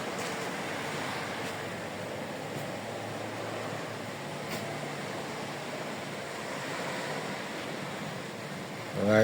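Steady wash of sea waves along an ocean front facing toward Honduras, a continuous broadband roar with wind, holding even throughout with a brief louder burst at the very end.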